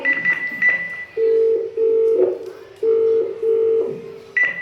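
Electronic phone tones play in a repeating pattern of steady beeps, like a call ringing through on the line with no one picking up.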